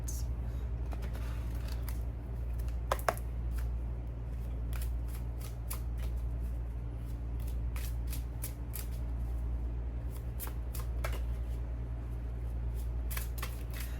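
Slightly sticky cards being shuffled at close range, in repeated crisp riffling bursts over a quiet, steady background hum.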